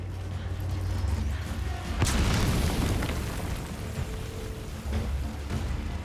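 A grenade goes off in a game with one loud, close boom and a rumbling tail, over a steady background of rain-like hiss and low ambience.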